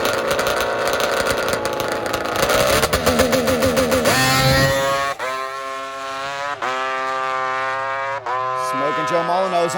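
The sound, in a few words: nitrous two-stroke drag racing bike making a pass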